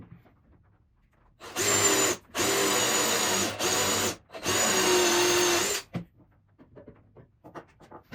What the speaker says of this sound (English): here's the hole I just drilled